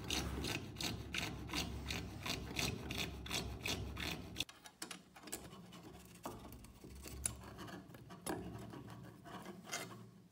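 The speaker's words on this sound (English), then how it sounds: "a fret saw is used." A fret saw cuts a circular opening in a PVC piece for an expansion cloud chamber, with quick, even back-and-forth strokes that rasp up close. After a brief pause, the rhythm turns slower and more uneven.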